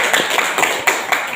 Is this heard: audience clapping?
yes